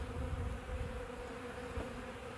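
Steady, dense hum of many honeybees close by during a spring hive inspection, continuous and fairly quiet.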